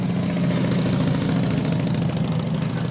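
Motorcycle engine running at a low, even idle during rider training on a cone course, a steady throbbing rumble heard up close with no talk.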